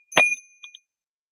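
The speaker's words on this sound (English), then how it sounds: "We have one of the Dorji bells. Oh, I barely rung it and you can hear it." A Dorje bell struck lightly gives one bright metallic ding with a high ringing tone that lingers. Two faint, quick taps follow before the sound fades to silence.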